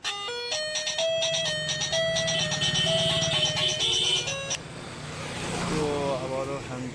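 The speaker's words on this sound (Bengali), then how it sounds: "রিভার্স হর্ন দেওয়া আছে।" A battery-powered rickshaw van's reverse horn plays a looping electronic melody of beeping tones, loud and close, then stops as a voice talks over background noise.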